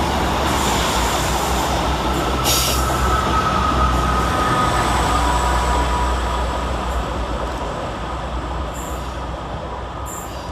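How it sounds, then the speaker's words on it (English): East Midlands Railway diesel multiple units, a class 156 and a class 158, rumbling around a curve through Deansgate station with loud, high-pitched wheel squeal and a steady rolling roar, close and continuous. "Screeching around the corner for East Midlands Railway is 156473 and 158806"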